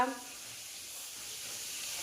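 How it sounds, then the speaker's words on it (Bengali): Fish frying in a pan gives a steady, even sizzle and hiss for about two seconds, close and moderately loud, with no voices. "এইদিকে হচ্ছে মাছ ভাজা"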